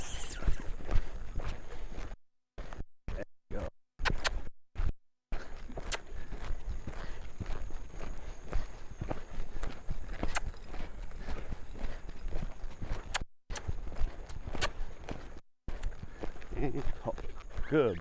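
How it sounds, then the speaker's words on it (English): A horse cantering in a riding session under a rider working on crossfiring, hooves clip-clopping in a steady loud rolling rhythm with brief gaps, while a rider's voice talks over it. "Get that canter again, left leg back."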